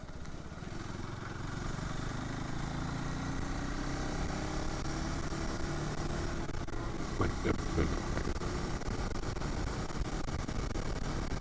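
A 2025 KTM Adventure 390 X+ motorcycle ridden on the road, its engine holding a continuous droning hum with wind rush, a brief rise in pitch partway through, fairly loud and steady throughout.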